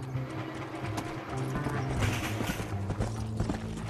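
Horse galloping in the Western video game Red Dead Redemption, a steady rapid clip-clop of hooves running continuously under a dense, busy game soundscape, fairly loud and close throughout.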